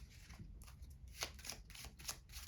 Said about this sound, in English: So they shuffle up the 2 piles